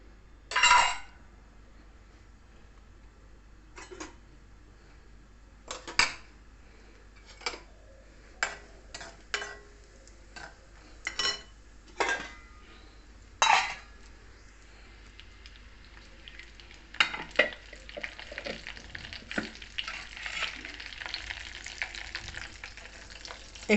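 Spices and curry leaves tempering in hot oil sizzle faintly, punctuated by a series of sharp clicks and taps spaced a few seconds apart, then a denser crackling spatter toward the end.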